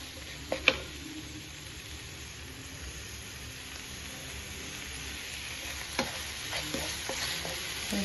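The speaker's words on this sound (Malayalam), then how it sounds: "ഇഞ്ചി ഇഞ്ചി പേസ്റ്റും കൂടെ ആ സബോളയ്ക്കകത്ത് കിടന്നൊന്ന് വഴന്ന് വരട്ടെ" Onion and garlic-ginger paste being sautéed and stirred in a pan for chana masala, a steady soft sizzle with occasional spoon scrapes and taps, close and moderately quiet, no talking.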